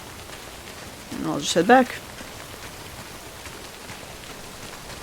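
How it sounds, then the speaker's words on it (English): Steady rain hiss in the video game Death Stranding, an even wash of falling drops that runs the whole stretch, with someone speaking briefly over it early on. "So much rain."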